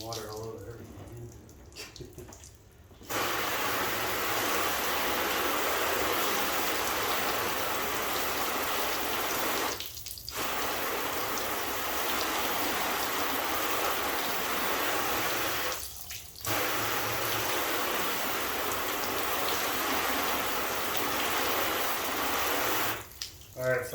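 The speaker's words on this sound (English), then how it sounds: "Rinse away our soap, see what we got." Water sprays steadily onto a car to rinse off soap, a loud continuous hiss broken by three short pauses where the flow stops, with a faint voice at the start.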